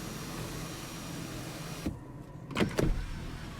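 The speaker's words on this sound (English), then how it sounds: "You can open up the rear shade if you like only, and then you can open up the front one as well." Power rear sunroof shade in a 2017 Cadillac CT6 opening, a soft electric motor hum inside a quiet cabin, ending with a few faint mechanical clunks and thuds as it reaches its stop.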